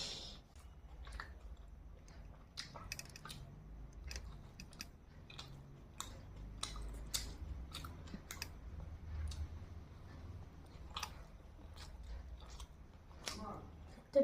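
Someone eats momos with soft, close chewing and small squishy bites that repeat irregularly under a quiet background, with faint talk at times.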